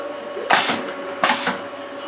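An MZ-400T semi-automatic capping machine worked by foot pedal runs under a steady mechanical hum, with two sharp, hissing, clattering bursts less than a second apart.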